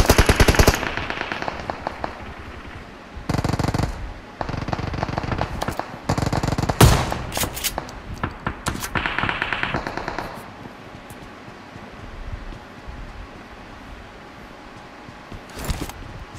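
PUBG Mobile gunfire crackles in rapid automatic bursts and single shots, loud and close, with pauses between volleys and quieter distant shots later on.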